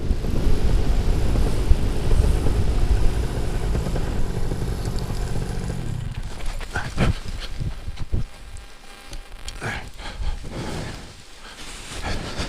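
A small propeller airplane lands on an island, its engine droning loud and close before throttling down to a lower rumble with rattles and wind noise.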